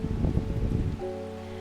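Steady rain patters in the herbal shop puzzle video game Strange Horticulture, a dense close hiss that gives way after a second to a soft sustained musical drone.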